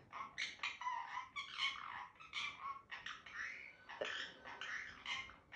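A pet talking parrot squawks and grumbles in a run of harsh, scratchy calls, close and loud, with barely a pause and no speech over it.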